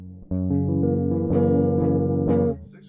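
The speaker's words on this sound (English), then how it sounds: "Now we're going to go to the bottom 4 string chords, sound something like this right here." A few strummed guitar chords on the bottom four strings ring together, changing shape twice with bright pick attacks, sustained and close, then cut off, no talking.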